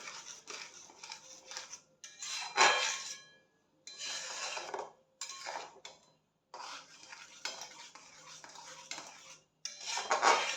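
Pumpkin peel chutney being stirred in a pan, with a spoon scraping and clinking against the metal in repeated bursts separated by short pauses, close and fairly clear.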